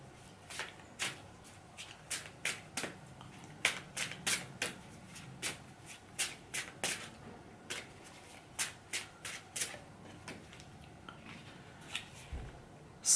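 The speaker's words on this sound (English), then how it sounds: "let's pull a card from Dr. Masaru Emoto and the crystals" Dr. Masaru Emoto oracle cards being shuffled by hand in a quiet room, a steady run of crisp riffling bursts about twice a second, close and fairly soft, with no talking.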